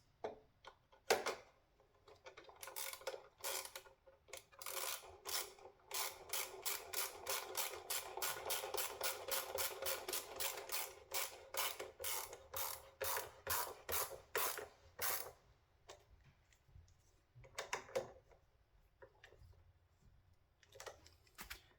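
Rapid clicking of a ratchet wrench driving a T40 screw on a 2025 BMW S1000R motorcycle while carbon parts are fitted, a long steady run of close, crisp ticks followed by a few slower bursts.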